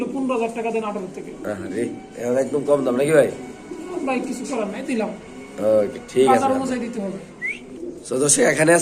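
White house pigeons coo at a pigeon market, with low cooing and a few chirps mixed under nearly continuous close conversation among people.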